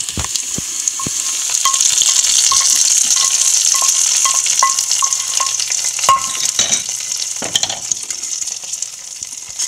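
Curry leaves crackling in hot tempering oil for Kerala dal curry (parippu), a loud continuous sizzle with sharp popping bursts and a few stirring clinks, close up and with no voices.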